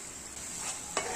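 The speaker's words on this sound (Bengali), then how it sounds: "পেঁয়াজগুলোকে খুব ভালোভাবে নেড়ে নিব আমি তেলের সাথে।" Chopped onions and onion paste stirred in hot oil for a chicken masala curry, a steady soft sizzle with a brief scraping stir near the end, close and alone.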